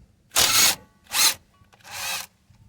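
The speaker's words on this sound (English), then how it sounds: "I'm going to remove this bolt for this brake line bracket on the knuckle or the hub portion." A power tool spins off the bolt on a brake line bracket at the front knuckle of a GMC Yukon XL, three short close whirring bursts separated by pauses, the last one softer and longer.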